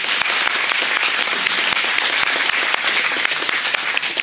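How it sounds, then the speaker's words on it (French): Crowd at a French town ceremony applauds steadily, a dense, bright wash of many hands clapping close by, continuous throughout with no pause and almost no speech. "Eh bien, nous pouvons les applaudir."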